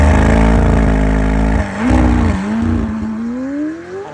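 A McLaren sports car, 750S or 720S, launches hard from a standstill, its engine roaring loud and close with rising pitch through gear changes as it accelerates, no talk over it.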